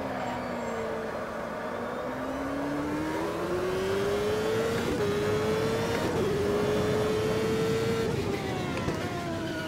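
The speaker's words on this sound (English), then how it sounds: "And that throttle lift sound." Racing video game car engine easing off the throttle, a steady loud drone with a tone that slowly climbs and dips and a slight gliding, synthetic edge, running alone throughout.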